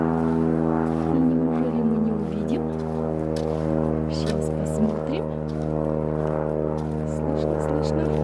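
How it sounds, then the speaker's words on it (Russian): Small ski-equipped propeller plane droning steadily overhead near a lake in the Canadian wilderness, a continuous low hum with strong harmonics throughout, moderately loud, with people talking over it. "Соседи прилетели еще на лыжах, самолетик."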